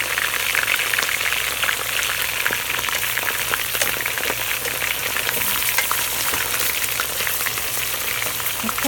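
Garlic frying in a pot with browned meat for Pakistani nihari, a continuous dense crackling sizzle heard close up and steady throughout, with no talking.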